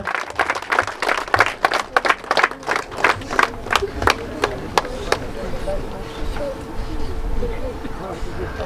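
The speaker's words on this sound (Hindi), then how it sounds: "तालियों की आवाज से थोड़ा सा प्रोत्साहन कीजिए दर्शक मित्र" A short round of clapping from a small crowd at an outdoor tournament prize ceremony, rapid at first then thinning to a few scattered claps, with outdoor background noise and murmuring voices.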